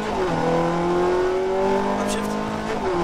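A race car accelerates at full throttle on a track, its engine note climbing and dropping with each upshift in a loud, continuous roar.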